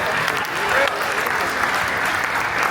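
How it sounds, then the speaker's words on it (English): Audience applause at a debate during a North American Zoroastrian congress, a dense steady wash of clapping from a crowd that stays loud and even throughout, with no talk over it. "Give them a round of applause."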